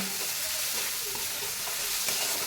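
Bombil (Bombay duck) masala with red chili powder and garam masala sautéing in a pan, a steady close hiss and sizzle broken by soft scraping stirs throughout.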